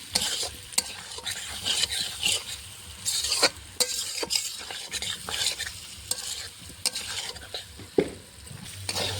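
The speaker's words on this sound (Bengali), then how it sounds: "আলুর সঙ্গে মশলাটা কষিয়ে নিয়েছি" Fried potatoes and spice paste being stir-fried in a pan for a Bengali cauliflower and rohu fish curry, soft sizzling beneath repeated spatula scrapes and clinks, close and irregular, with no talking.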